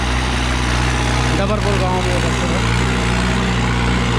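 A 2017 New Holland 5630 4WD tractor working a field in Dabarpur village, engine rumbling steadily and close while someone speaks briefly over it.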